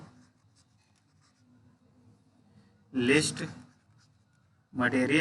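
A pen scratches out a handwritten material list in a diploma drafting class, with faint, continuous writing strokes close by, interrupted by two loud bursts of someone talking.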